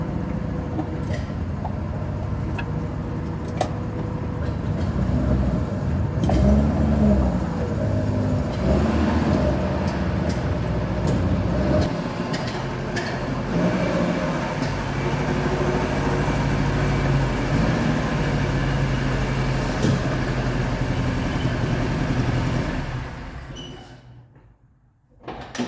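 A hot-rodded BMW 2002 runs and drives after 22 years, its engine giving a continuous rough, loud rumble with shifting revs that tails off into silence at the end.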